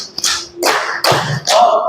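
A group of people clapping in a structured clapping game at an Islamic religious counselors' training session, with several sharp, loud bursts of hand claps in quick succession.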